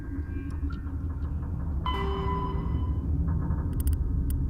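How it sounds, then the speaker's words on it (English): A tram in the Mass Effect video game rumbles steadily with a low mechanical drone, a metallic screech and clank near the middle, then ticking clicks toward the end, with no talk. "In that the tram, by the sounds of it, won't let me leave."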